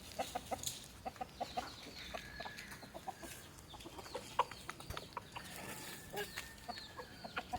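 Chickens outdoors around midday, being given bran, make soft clucks scattered throughout, faint and fairly distant, with no one speaking.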